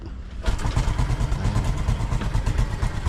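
A Honda RS 125 motorcycle, recently submerged in a flood, kick-starts after a brief quiet moment and settles into a steady, loud, close-up engine run with a rough, rapid pulsing throb.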